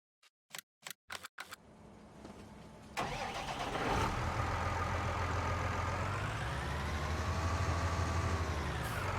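A tractor in Farming Simulator 19 cranks over after several sharp clicks, then the engine catches and settles into a steady, loud running drone.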